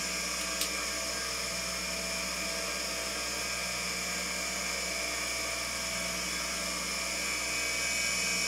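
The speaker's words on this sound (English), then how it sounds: "what you sometimes have to do is take an instrument and burr off the top portion here" A dental bur grinds the top off a printed surgical guide, giving a steady, high, whining drone that holds unbroken from start to finish with no talking.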